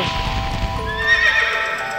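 A horse in Valkyrie Profile whinnies loudly and close, a quavering neigh that rises and falls, over a rough, steady background.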